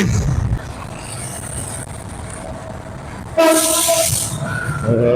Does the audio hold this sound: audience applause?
no